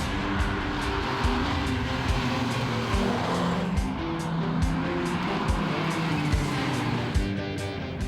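Porsche race cars slide through a tight hairpin on handbrakes, engines revving near and loud while tires squeal and skid, with rhythmic gear changes pulsing through the run.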